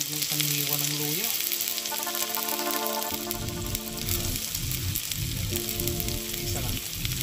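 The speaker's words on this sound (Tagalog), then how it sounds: "magpainit ng mantika sa ating lutuan at unang ihulog ang sibuyas" Onion and ginger frying in hot cooking oil in a pan produce a loud, continuous crackling sizzle with a few light stirring sounds and tonal hums in the background, and no speech.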